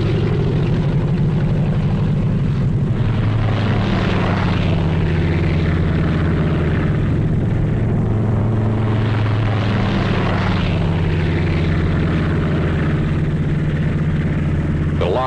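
Massed WWII propeller aircraft towing gliders loaded with jeeps, guns and troops on D-Day over Normandy, a dense, continuous multi-engine drone that holds loud and steady throughout.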